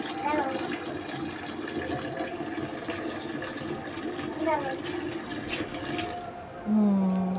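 A garden water tap runs with a steady rushing flow while people talk over it; a brief tonal sound comes near the end, though the flow does not clearly stop.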